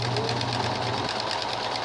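Sewing machine stitching fabric for a costume, a steady close mechanical whir that runs for about two seconds and then stops abruptly.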